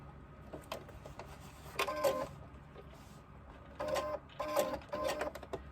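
A sewing machine stitches a crossbody bag back and forth in short, quiet mechanical bursts of whirring separated by pauses, close by in a calm room.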